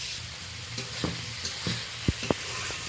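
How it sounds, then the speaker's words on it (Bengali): Prawns frying with onions in a pan, a steady low sizzle broken by several sharp scrapes and knocks of a spatula as they are turned and stirred, close up with no voices. "চিংড়ি মাছের আলাদা করে ভাজার কোনো প্রয়োজন নেই, ওই পেঁয়াজের সাথে আমি উল্টে পাল্টে ভালো করে ভেজে নেব।"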